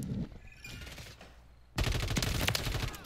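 Rapid automatic fire from a RAM-7 assault rifle in a first-person shooter, starting with a short burst, then quieter, then a dense, loud, sustained stream of shots to the end.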